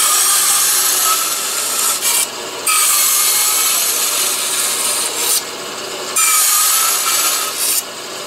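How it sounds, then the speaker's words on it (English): A bandsaw cuts out a wooden box bottom, a loud steady rasping buzz that goes on with brief dips as the blade moves through the wood. "go over to the bandsaw and cut out the box bottom"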